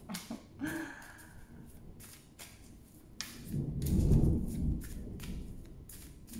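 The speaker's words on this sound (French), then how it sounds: "j'ai de l'orage chez moi" A deep thunder rumble swells and fades in the middle, set among scattered knocks and faint background noise.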